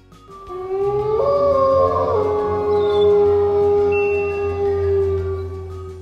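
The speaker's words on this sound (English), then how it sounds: "A werewolf." A werewolf howl Halloween sound effect rises into a long, sustained wailing howl with a gliding pitch, loud and close over a low steady drone.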